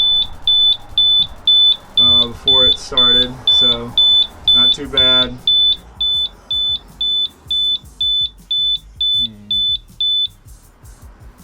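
An Eve Water Guard water leak sensor alarm sounds a steady series of sharp, high electronic beeps in a regular rhythm, loud and close, while a person talks over the first half.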